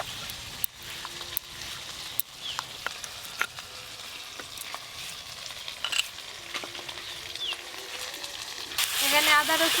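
Onion, ginger and garlic paste fry in oil as the base for a spicy crab curry, a steady close sizzle with scraping stirs and clinks, rising to a louder burst of frying at the end.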